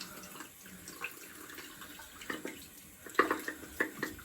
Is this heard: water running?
yes